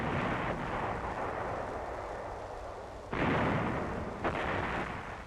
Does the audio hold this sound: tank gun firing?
yes